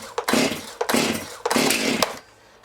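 A new Stihl MS271 chainsaw is pull-started on full choke, giving four loud, close ripping pulls of the starter cord in quick succession, each a rough burst about half a second long, then quiet.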